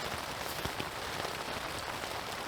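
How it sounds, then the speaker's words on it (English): Heavy rain pours steadily on a camp during a mountain storm in Ireland, making a dense, continuous hiss with a few sharper drops striking close by. No one speaks. "I wouldn't consider this light rain"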